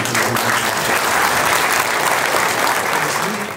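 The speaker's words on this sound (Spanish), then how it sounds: "Así que les vamos a dar un aplauso." Congregation applauding a newly married couple at the close of a Catholic wedding Mass in a parish church, a steady, dense wash of clapping from many hands that holds evenly for several seconds before tapering slightly.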